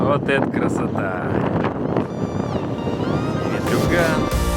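Strong wind buffets the microphone on the Chatyr-Dag mountain plateau, a loud continuous roar with gusts, and voices speak over it.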